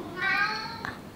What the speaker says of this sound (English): That's my cat crying.